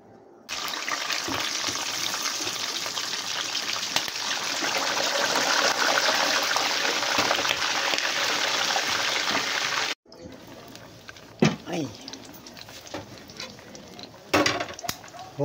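Pork belly for lechon kawali frying in hot oil, a loud steady sizzle for about ten seconds that cuts off, followed by quieter crackles and scattered clanks.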